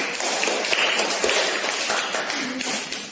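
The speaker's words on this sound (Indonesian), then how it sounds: "Tepuk tangan untuk kelompok 1." Class of primary school pupils applauding a group, a brief dense patter of many hands clapping at moderate loudness, somewhat roomy and continuous.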